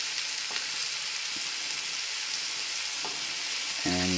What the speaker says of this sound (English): Just making sure to coat everything, get a nice coat of butter.